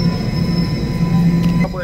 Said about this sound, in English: this is the Subway coming